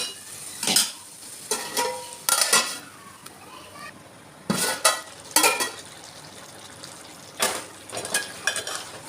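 Chicken curry cooking in a pan on the stove, with a spoon repeatedly clanking and scraping against the metal pan in irregular bursts over a low, steady sizzle.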